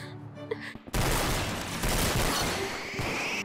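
Sustained loud gunfire in a video game, a burst that starts abruptly and rattles on continuously after a short quiet lead-in.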